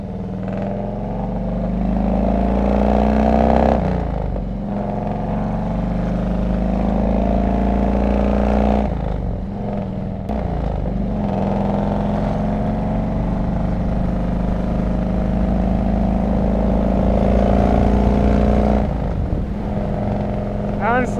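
A Harley-Davidson Road King Classic motorcycle with 39-inch fishtail exhausts rumbles steadily while riding, engine tone rising and falling with brief throttle changes and wind noise; someone talks over it.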